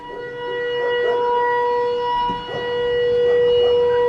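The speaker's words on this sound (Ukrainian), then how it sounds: "У нас повітряна тривога" An air raid siren wails steadily during an alert in Ukraine, a sustained droning tone heard from a distance with faint background noise and no speech.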